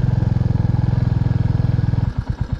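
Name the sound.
motorcycle engine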